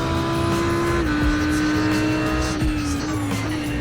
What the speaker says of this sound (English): There's a faster class car approaching.